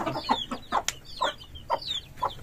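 A mother hen with her chicks clucks steadily nearby, a run of short throaty clucks in an even rhythm with a faint high chirp mixed in.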